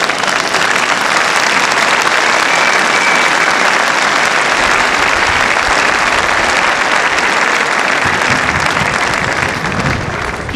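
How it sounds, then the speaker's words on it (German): Loud, dense crowd applause at an outdoor demonstration against the far right in Wetzlar, continuous clapping that stays strong and close for about ten seconds. "dieser Applaus spricht für sich selbst."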